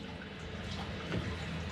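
Water runs steadily from a tap beside a gas water heater, a close continuous splashing rush at moderate level, with no voices.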